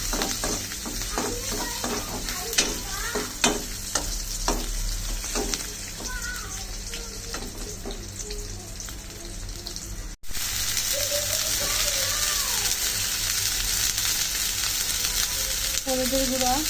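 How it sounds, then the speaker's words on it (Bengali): Onion and garlic fry in oil in a wok, giving a steady sizzle broken by stirring clatters and scrapes. Brief tonal bits sound in the background. "এখানে কড়াইয়ের মধ্যে তেল দিয়ে পেঁয়াজ রসুন ভাজতে নিতেছি"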